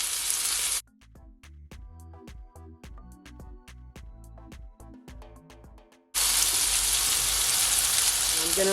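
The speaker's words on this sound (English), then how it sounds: "So now I'm gonna flip over my steak. I'm gonna scrape on just a bit of butter." Flipped steak sizzles loudly in butter in a pan. A bright frying hiss opens the clip, gives way to a few seconds of plucked, tuneful music, then surges back at full strength near the end.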